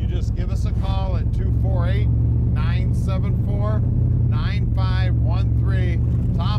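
A restomodded 1953 Ford F100 pickup's engine rumbles loudly and continuously through side pipes, a deep steady drone heard beneath someone talking.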